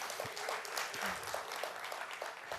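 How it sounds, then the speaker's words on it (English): Guests at a ceremony releasing 2019 CXC exam results in Montserrat give a round of applause, steady crowd clapping at moderate level with scattered voices. "So please give her a round of applause."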